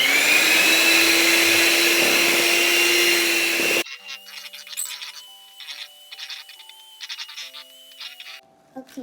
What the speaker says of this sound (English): we're going to be using this mixer to mix all of this up